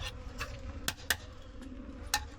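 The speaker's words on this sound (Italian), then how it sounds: "Ora aspetto qualche minuto che vada via tutte queste api" Honey bees buzzing around an open hive during a honey harvest, a faint steady drone with a few brief close passes of individual bees flying near.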